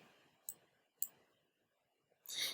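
A computer mouse clicks twice, crisp and close, followed by a short burst of louder handling noise, set against a quiet background.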